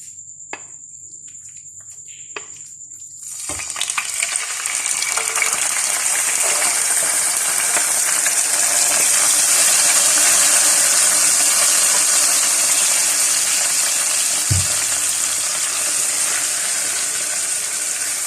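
After a brief quiet moment, a loud, steady sizzle of meat frying in hot mustard oil starts abruptly and continues throughout.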